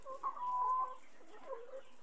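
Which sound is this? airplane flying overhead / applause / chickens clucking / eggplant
chickens clucking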